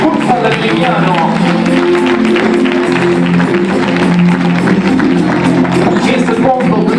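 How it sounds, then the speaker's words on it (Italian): Dense, continuous audience applause fills the Palazzo dei Congressi during a Miss Mondo beauty pageant, loud and unbroken under a presenter's voice and music. "Con un applauso che sorge spontaneo"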